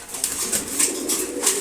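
Racing pigeons coo in a steady low murmur, with several brief higher flutters or calls breaking through at intervals; no voices.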